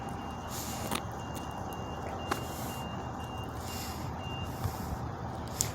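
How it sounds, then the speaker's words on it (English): Tow trucks pull in on a roadside with steady, repeated reversing beeps over a low, constant engine rumble, heard from a moderate distance. "Here's some more trucks coming in."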